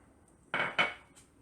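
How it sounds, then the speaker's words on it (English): Chocolate being folded into cake batter in a mixing bowl: two quick, close scraping strokes of a utensil against the bowl, then quiet, with no talking. "And I'll give it another mix real quick"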